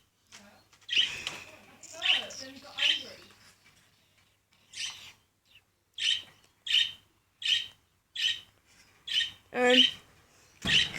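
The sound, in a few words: male lutino budgie squawking and chirping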